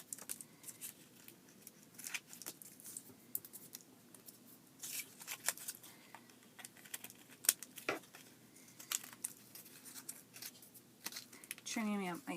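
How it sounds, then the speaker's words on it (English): Scissors snip along paper edges in a run of short, crisp cuts with rustling between them, close and moderately loud; a voice speaks briefly near the end. "Trimming up my edges here"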